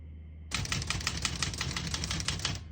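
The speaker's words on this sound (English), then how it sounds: "We're going to keep that on single and finish typing." Rapid typing on a vintage Olivetti Lettera 32 portable typewriter: a fast, even stream of sharp key strikes and clacks, close and clear, with no talk.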